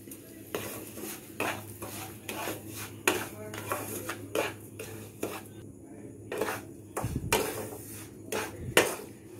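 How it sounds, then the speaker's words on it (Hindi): Semolina roasting in ghee in a pan for sooji halwa, with a spoon repeatedly scraping and clinking against the metal pan in an irregular rhythm, close and moderately loud, with no talk. "इसी में हमें ये सूजी को भी भून लेना है"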